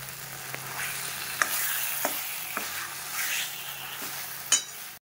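Home-style vegetable curry fries in a pan with very little oil. A steady close sizzle runs under sharp spoon scrapes and taps against the pan, with a louder clink near the end.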